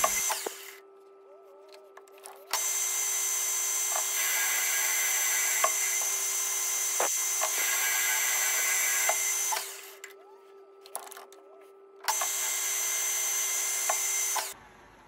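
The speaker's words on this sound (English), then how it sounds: "I'll turn the bar to finished diameter, then cut the end to 12mm for the thread." A metal lathe turns a bar down to finished diameter while shaping a machinist hammer. A steady, loud machining whine with a fixed tone runs in long stretches, broken by quieter gaps around two and ten seconds.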